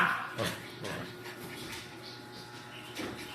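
Dogs whimpering with a few short barks and yips, close and fairly loud over steady background noise, with faint voices in the room.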